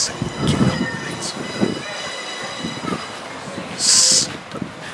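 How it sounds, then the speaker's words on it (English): A train bound for Whitby rolls into a station on the Scarborough to Whitby line, with a low rumble and clatter under a steady background hum and a brief high squeal or hiss partway through. "our train to Whitby is now approaching at 1:42 like we thought it would be"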